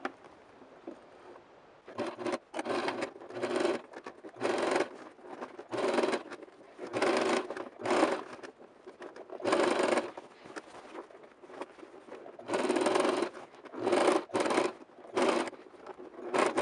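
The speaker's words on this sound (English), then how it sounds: "just stitch right here at the edge just to seal that and secure" A sewing machine stitches along the edge of a lace bodice on a gown, running in repeated loud, close bursts of whirring stitching with short stops between them.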